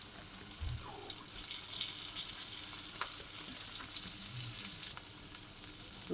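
Cumin, green chili, turmeric and chopped cabbage fry in a pan, giving a steady soft sizzle with a few faint stirring clinks and scrapes, close and continuous, with no voices.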